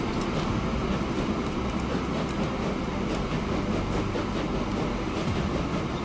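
Train running in the Transport Fever 2 simulation game: a steady, continuous rumble of rolling rail cars with faint clicking from the wheels, holding at an even loudness for the whole stretch with no talking.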